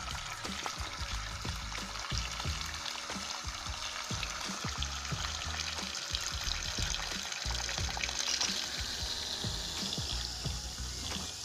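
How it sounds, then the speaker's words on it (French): A homemade water pump runs at full speed, draining water from a tray with a steady, continuous splashing and gurgling flow, close and fairly loud throughout, with no talking. "La pompe tourne à fond."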